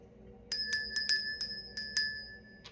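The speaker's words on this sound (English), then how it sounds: "I'm going to use the bell to cleanse the space." Several bright, clear rings of a small bell sound one after another in an irregular rhythm in a quiet room, each ring fading briefly before the next.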